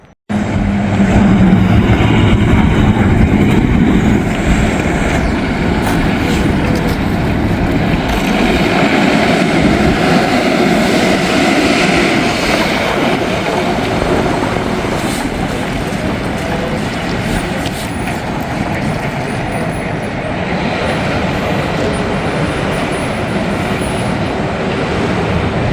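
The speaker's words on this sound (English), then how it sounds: "it sounds like there's another train right behind it" A train rolls past a road crossing in Hamilton, Ohio, with a loud, continuous rumble and clatter of wagons that lasts the whole stretch, close by and steady.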